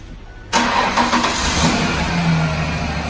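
A car engine cranks and catches after a jump start, rising from near silence into a loud, steady running note close by, with a slight rev before it settles.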